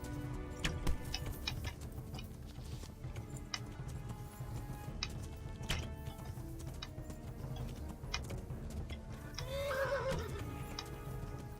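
A horse in the Kingdom Come: Deliverance video game whinnies loudly near the end, over a steady bed of clip-clopping hooves and ticking sounds, with no talking.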